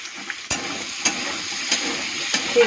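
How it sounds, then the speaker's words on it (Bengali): Potatoes sizzling as they fry in a pan, a steady close hiss with a few distinct stirring scrapes spaced through a short stretch, alone without any talk. "আলুটা একটু ভাজা ভাজা হয়ে গেছে"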